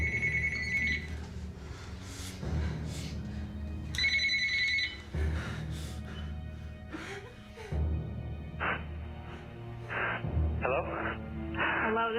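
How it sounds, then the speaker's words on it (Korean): A telephone rings with a confirmation call from 911, sounding in short bursts at the start and again midway, with a voice talking throughout and dramatic background sound layered under it. "911의 확인 전화."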